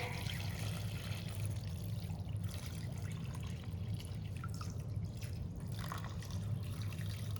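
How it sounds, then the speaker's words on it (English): Water poured into a glass dish holding a towel, a continuous soft trickle and dribble under low background hum, steady for several seconds. "now we're gonna add some water."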